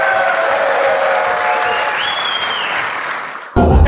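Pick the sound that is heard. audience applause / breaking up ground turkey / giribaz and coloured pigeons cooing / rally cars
audience applause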